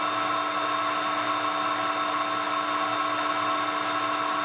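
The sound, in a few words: drill boring through metal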